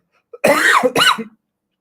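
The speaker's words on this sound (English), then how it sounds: "excuse me for that cough" A single close, sharp cough in two quick bursts, followed by silence.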